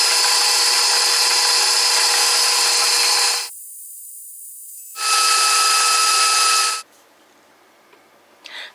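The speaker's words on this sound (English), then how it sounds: "let me turn this on, and I'll fast forward through that so you don't have to listen to the mixer" Electric mixer whirring loudly while blending homemade brown sugar, running steadily in two long bursts separated by a brief pause, then switching off to near silence.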